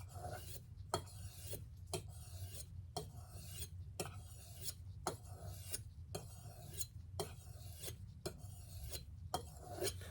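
A knife is sharpened on a cracked sharpening stone, each stroke a gritty rasp followed by a short pause, about a dozen strokes in even rhythm, quiet and close, with no talking.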